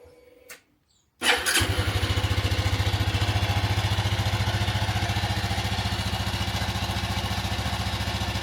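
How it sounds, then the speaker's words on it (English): A high-mileage Honda C110X Super Cub motorcycle is started after an oil change: a short crank, a few quiet seconds, then the small single-cylinder engine catches and settles into a steady, even, rapid idle, heard up close. "So we'll give it a start up and see how it sounds."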